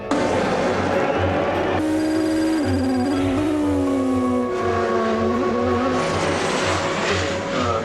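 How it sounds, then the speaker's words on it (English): Race cars roar away from the start of the 24 Hours of Le Mans, a dense, loud wall of engines with rising revs and gear changes as the pack surges forward, no voices over it. "Every car searches forward looking for an opening, straight out of the starting line."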